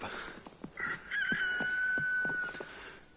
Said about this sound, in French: il y a 2 poules pondeuses